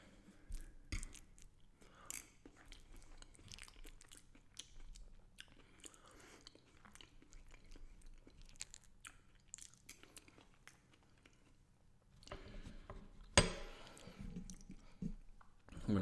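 Close-up chewing and biting of a dinner of pork chops, mashed sweet potato and frozen corn, with soft wet mouth sounds, occasional crunchy bites and a sharp utensil clink near the end.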